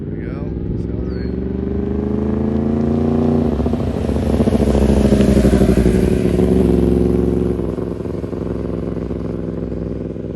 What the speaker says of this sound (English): So he's going to go ahead and pop it into second gear on this pass.